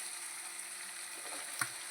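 Onions fry in a pan until reddish-brown for pav bhaji, giving a faint, steady sizzling hiss with a brief stir or clink near the end.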